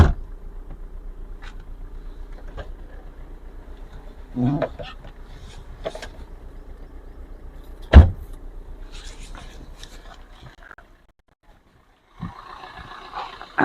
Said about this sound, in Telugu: ఇంకా పవర్ విండోస్ కూడా చూసుకోవచ్చు, పవర్ విండోస్ ఉన్నాయి